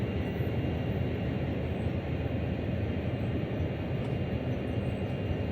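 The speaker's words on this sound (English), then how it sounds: "I'll use the loco brake." Locomotive running on the loco brake in Train Sim World, a continuous low rumble with steady rail and engine noise, unbroken throughout.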